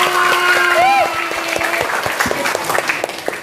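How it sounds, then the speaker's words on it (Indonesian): An audience at a teachers' jamboree gives a round of applause that starts loud and thins into scattered claps, with voices and a rising tonal sound over it near the start. "tepuk tangan untuk Pak Is"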